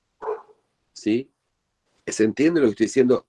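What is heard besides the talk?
dog barking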